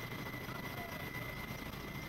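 A hovering coast guard helicopter sets up for a sea rescue rope drill, its rotor and turbine roar a steady, dense wash that fills the whole moment without break.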